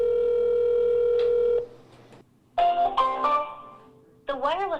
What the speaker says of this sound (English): The phone rang 7 times before we were sent to voicemail.